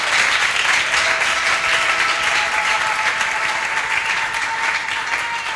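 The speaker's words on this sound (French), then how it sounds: "Oh, applaudissez pour Jésus!" A church congregation at a French-language transformation service applauds for Jesus, loud, dense clapping filling the room without pause, with a faint sustained tone beneath.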